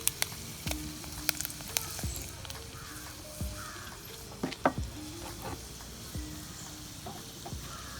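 Urad dal and dried red chilli sizzle in hot oil in a pan, a soft steady frying hiss broken by sharp crackles and pops, with crows cawing in the background.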